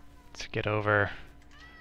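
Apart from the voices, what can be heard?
pet cat meowing in the room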